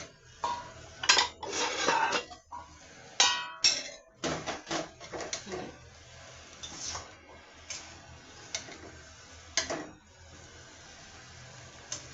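Pieces of braised river pangas fish lifted out of a cooking pan, with irregular metallic clinks and scrapes of a utensil against the pan, separated by short pauses and no talk.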